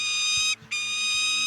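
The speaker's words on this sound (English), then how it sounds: "This is the sound of a falcon." A falcon's call in the video game Vampire: The Masquerade – Bloodlines, a steady high shrill tone held for over a second with a brief gap in the middle, fairly faint and heard alone.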